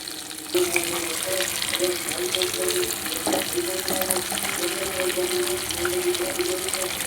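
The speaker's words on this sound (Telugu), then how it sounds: "డీప్ ఫ్రై చేసుకోవాలి వేసిన వెంటనే మనం చేపలు ఇప్పుడు కూడా కలపకూడదు" Fish deep frying in hot oil gives a steady, close, dense sizzle that holds through the whole stretch, with a faint tonal hum running underneath.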